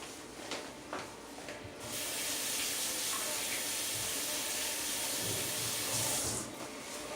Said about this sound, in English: And I will, real quick, wash my fingers again.